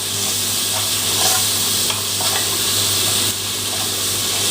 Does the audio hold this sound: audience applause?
no